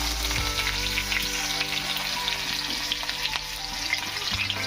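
Chopped onion frying in hot oil in a village kitchen wok, a dense continuous sizzle with faint stirring scrapes, close and steady with no talk.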